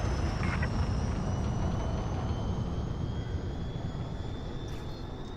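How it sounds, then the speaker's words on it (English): Spaceship engines in a video game roaring on departure, a broad steady rumble with a faint rising whine that fades slightly as the craft pulls away, no voices. "Ship restraints disengaged. Commence departure."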